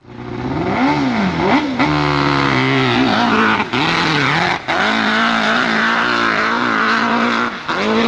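A nitro-fuelled drag racing engine roars loud and close, a sustained, harsh, violent drone with brief dips and surges in pitch, running alone with no voices.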